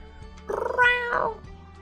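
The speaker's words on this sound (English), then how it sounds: "Such a cute kitten." A kitten meows twice in the Choices: Stories You Play game, a short rising mew followed by a second, slightly longer cry, close and clear over a quiet musical background.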